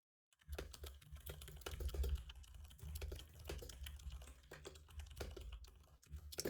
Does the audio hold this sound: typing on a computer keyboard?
yes